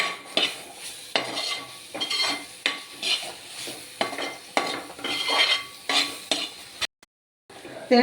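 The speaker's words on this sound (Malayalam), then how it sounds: "ഇളക്കി ഇളക്കി ഇതിൻ്റെ എണ്ണ തെളിയുന്നോളം വരെ നമ്മളിങ്ങനെ ഇളക്കി കൊടുക്കണം" Sliced onions are stirred in hot oil for chicken peralan, with a spoon scraping and clattering against the pot in repeated rhythmic strokes over a steady sizzle, close and clear, then a brief silence before a final scrape.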